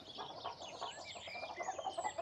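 A hen clucks continuously at a quiet level, with soft overlapping fowl calls, among other chickens, with no talking.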